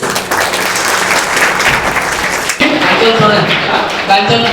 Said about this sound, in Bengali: সৌগতের জন্য একটা হাততালি হবে